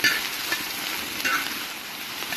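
Bacon frying on an outdoor disc cooker in New Mexico, a steady close crackling sizzle with occasional brighter pops, heard alone without talk.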